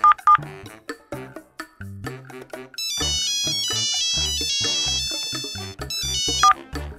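A telephone is dialed, giving a run of short separate key presses followed by a long, loud electronic ringtone melody with a brief sharp beep near the end.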